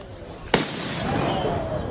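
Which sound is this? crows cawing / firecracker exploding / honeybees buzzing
firecracker exploding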